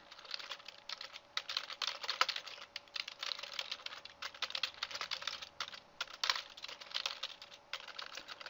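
Close, quick typing on a computer keyboard during an online card game, with dense clattering keystrokes rattling on without a break for several seconds and no voices.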